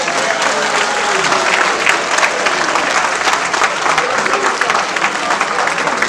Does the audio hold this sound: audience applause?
yes